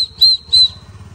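Two short, shrill toots from a toy whistle, close and loud, over a low rumbling background.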